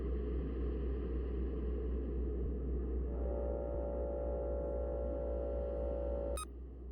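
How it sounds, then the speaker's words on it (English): Steady white-noise hiss fills the background of the video game Can I Touch Your Arm?, with a thin sustained electronic tone joining midway and a short bright blip near the end, no talking. "there's something about the white noise in this game that really brings it all together"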